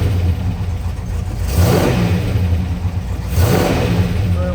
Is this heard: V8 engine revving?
yes